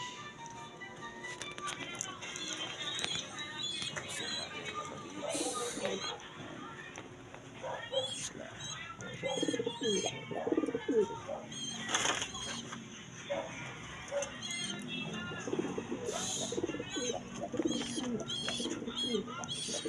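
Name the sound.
pigeons cooing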